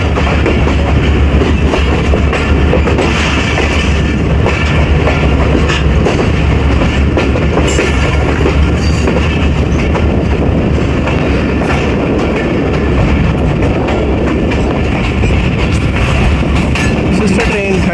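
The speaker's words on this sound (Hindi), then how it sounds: "ZC20 आपको नज़र आ गया जी, 14 डाउन को लीड कर रहा है।" A ZC20 diesel locomotive leads the 14 Down Awam Express past at Sohawa railway station, a loud, continuous rumble of the engine and wheels that fills the whole stretch close by.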